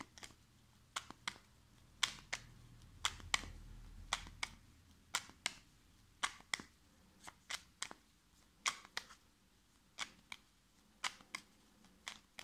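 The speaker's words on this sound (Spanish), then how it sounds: "Primero vamos a barajar las cartas para limpiarlas" Tarot cards are shuffled on a table in a string of sharp, crisp riffles and slaps, each a quick burst, coming roughly once a second at close range, with quiet gaps between.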